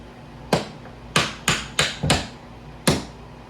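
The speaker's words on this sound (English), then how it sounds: "I'm using a flat screwdriver and my hammer." Six sharp metallic taps, close by, as a hammer strikes a flat screwdriver against a door hinge pin, in an irregular rhythm with short pauses between strikes, each ringing briefly before fading.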